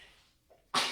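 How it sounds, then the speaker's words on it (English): A single loud sneeze bursts out near the end after a faint intake of breath, close and sharp, followed by a brief sustained rush of air. "I'm going to sneeze."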